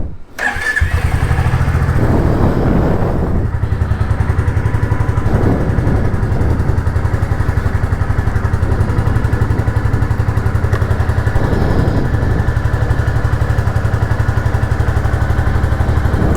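A Royal Enfield Classic 350 motorcycle cold-starts with a short crank, then settles into a loud, close, steady thumping exhaust idle with a few rev swells, and no one speaks.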